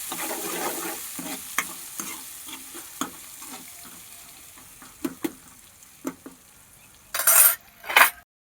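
A spoon scrapes and stirs green chili and green peas in a sizzling pan, soft frying hiss beneath intermittent metallic clinks and scrapes, ending with two louder clattering bursts.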